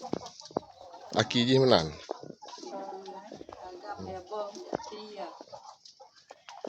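Siamese chickens in Aceh cluck and call close by, with one loud burst of vocalizing early on. People chat over the birds and frequently mask the clucking.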